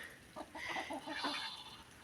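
Chickens clucking in a henhouse during evening feeding, a quiet run of short, rhythmic clucks and murmurs with no voices.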